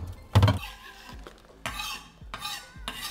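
A chipotle and tomato dip with salt and pepper being stirred in a bowl: a sharp utensil scrape, then several bursts of mixing and scraping against the bowl, close and clear, with no talking.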